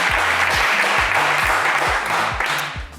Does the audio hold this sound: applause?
yes